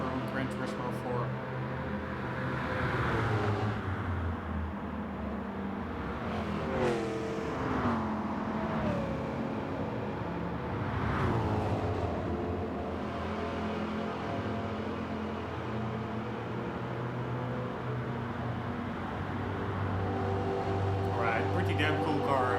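A Plymouth Barracuda in Gran Turismo 7 driving with a steady, droning engine note that swells and falls as it revs and shifts. The engine stays at a constant level beneath someone talking almost the whole time.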